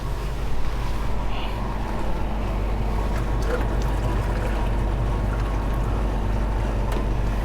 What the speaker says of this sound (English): some boiling water to about up to an inch high, so it has a water bath